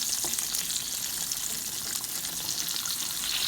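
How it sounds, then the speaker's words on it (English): Sliced green tomatoes frying in hot oil, making a loud, dense, continuous crackling sizzle with no talk. "If your tomatoes are a little thicker, then you can fry them a little longer"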